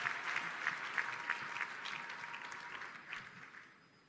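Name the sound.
audience applause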